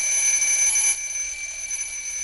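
Alarm clock in Silent Hill 3 gives off a shrill, continuous ring that stays loud for about a second and then carries on more quietly, with no talking over it.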